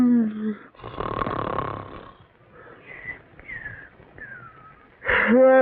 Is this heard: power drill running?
no